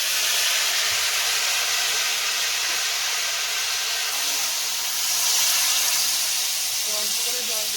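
Water poured into a pan of sautéed vegetables gives a steady, loud, broad sizzling hiss of steam that holds throughout and swells briefly near the end.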